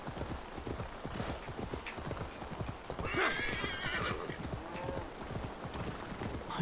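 Steady clip-clop of horse hooves at a trotting pace in the video game Assassin's Creed Valhalla, close and continuous, with a brief whinny partway through.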